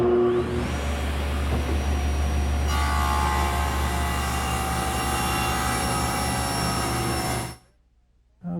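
A table saw rips strips from thick oak, a loud steady motor roar with a rising whine as the blade bites into the wood, cutting off abruptly near the end, with no talk.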